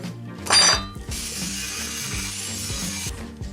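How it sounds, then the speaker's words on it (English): Sawing through the hardened steel tang of an old file with a power tool, a loud burst of cutting noise followed by a steady, sustained metallic grinding whine under faint intermittent knocks. "Now I'm just going to cut the tang off."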